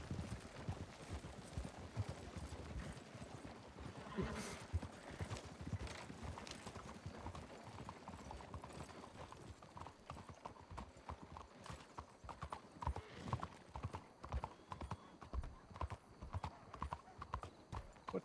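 Horse hooves clip-clopping in a video game store robbery scene, rapid steady hoofbeats under quiet background game sounds, with faint talk at times.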